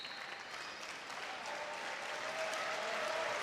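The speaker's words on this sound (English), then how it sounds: "Baumgartner gave the golf clap to that" A college wrestling dual between Stanford and Iowa State, where the crowd gives polite, thin applause that stays steady and soft, a distant spread of scattered claps filling the arena with a faint murmur beneath.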